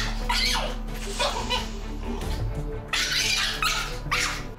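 A Shiba Inu dog screams and howls while being restrained on a leash during training in a narrow entryway, with repeated shrill, strained cries close to the listener.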